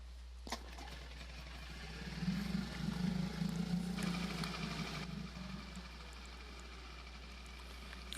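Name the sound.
boat outboard motor starting and running in sailing video game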